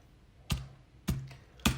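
Three separate keystrokes on a computer keyboard, each a close, sharp tap, spaced roughly half a second apart against a quiet background.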